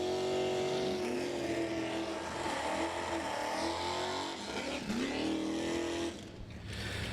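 Drag racing engines of a Chevy Camaro and a 1971 Plymouth Duster at the Rocky Mountain Nationals, loud sustained revving with rising pitch that dips, climbs again, then cuts off near the end.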